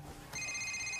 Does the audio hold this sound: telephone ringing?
yes